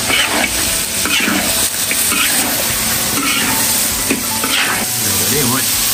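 Goose pieces fry in hot oil in an iron wok over a wood fire while being stirred, a loud, continuous sizzle with scraping and clattering of the utensil against the pan, and voices now and then.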